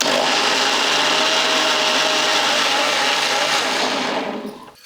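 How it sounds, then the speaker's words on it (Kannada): A mixer grinder whirs loud and steady at close range as it grinds rava batter with curd, water and ginger. The high motor whine holds constant and then winds down at the end, with no talk. "ಈಗ ಇದೆಲ್ಲ ನುಣ್ಣಗೆ ರುಬ್ಕೋತೀನಿ ರೀ"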